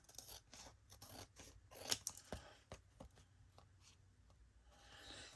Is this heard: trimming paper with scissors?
yes